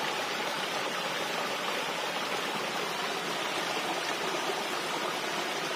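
Steady broadband rush of a waterfall and stream on a rainy forest hiking trail at Phu Chi Fa, continuous and fairly close with no voices.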